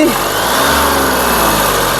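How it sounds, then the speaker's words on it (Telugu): A 2017 Mahindra Bolero SLE engine runs loud and steady, with a continuous rough mechanical drone. The revving barely rises and falls over the whole clip. "సింగిల్ సెల్ఫ్లో కార్ స్టార్ట్ అవుతుంది ఎటువంటి స్టార్టింగ్ ట్రబుల్ అయితే లేదండి"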